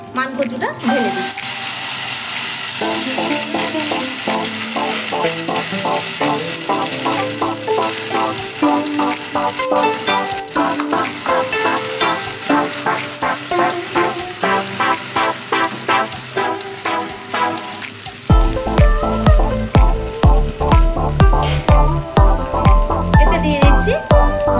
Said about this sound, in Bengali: মানকচুটা ঢেলে দিই।